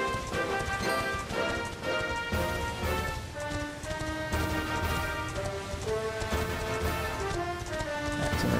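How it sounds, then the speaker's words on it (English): Horse hooves clip-clopping steadily while riding in Dragon Quest XI, a continuous galloping rhythm under bright looping background music. "we can actually use our horse for the first time in, like, forever"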